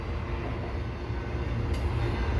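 Huge 85-foot auto rack cars of an eastbound CN freight train rolling past at Dorval, a loud steady rumble and rattle of wheels on rails, close by and continuous with no talk.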